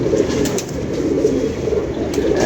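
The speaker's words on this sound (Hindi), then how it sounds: "पूरा कबूतर आ रहा है ना" Pigeons cooing at a pigeon keeper's loft: low, continuous throaty murmuring from several birds, fairly close, with a couple of faint higher chirps and no talk.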